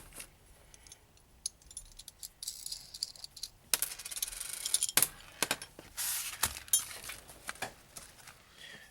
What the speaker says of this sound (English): So I just remove this swivel bracket.